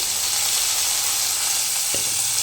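Green chillies and tomatoes fry in a pan with a steady, even sizzle and hiss, alone and close, with one faint knock near the end.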